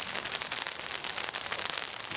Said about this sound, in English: rain is coming down, as you can probably hear,